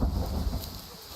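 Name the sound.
thunder in the video game Way of the Hunter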